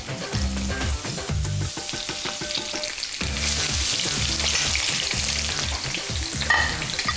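Loud, steady sizzling of fish frying in hot sunflower oil, with clinks and scraping of a utensil against the pan throughout.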